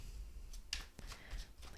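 Tarot cards shuffled by hand, a soft, faint run of quick papery riffles and flicks close by, with no talk.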